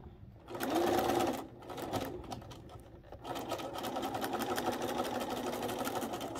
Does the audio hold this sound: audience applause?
no